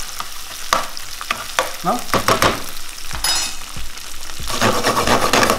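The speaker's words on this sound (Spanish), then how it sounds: "Vamos a agregar una cucharada de ajo picado finamente, que ya usted está viendo cómo yo lo piqué. Yo lo agregué, salteamos otro poquito así" Bacon and finely minced garlic sautéing in a pan for pasta carbonara, with a steady close sizzle broken by stirring and scraping strokes, and a brief word spoken at one point.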